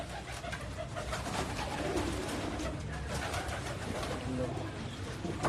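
Pigeons coo on a Karachi rooftop amid a dense wash of outdoor noise, their soft calls mixed with someone talking throughout.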